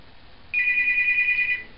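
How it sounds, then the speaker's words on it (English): An Ericofon telephone's original ring tone, reproduced by a microprocessor over a Bluetooth conversion, sounds as a single bright, steady electronic ring burst lasting about a second after a brief quiet moment. "the microprocessor reproduces the original um, tone produced by the Ericofon. So it should ring now."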